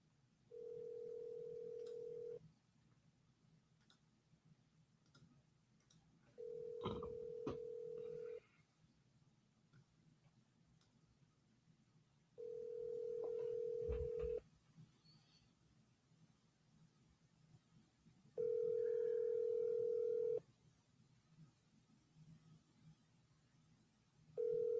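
A steady telephone tone sounds in four separate bursts of about two seconds each on an outgoing call, with quiet gaps between them and faint line noise underneath.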